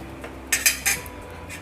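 A spoon clinks against a bowl while mixing vegetable mayonnaise sandwich filling: three quick, close metallic taps over a quiet room, with nobody talking.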